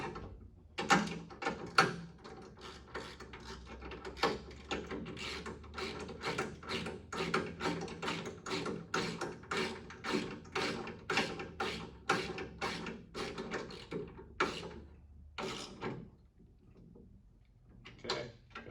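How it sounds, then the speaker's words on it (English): A socket ratchet tightens an Allen bolt on a bolt-on adjustable pedal assembly in a 1979–93 Mustang, giving a steady run of close, crisp ratcheting clicks over about fifteen seconds before slowing and stopping. "We're gonna use a socket right now, just for ease."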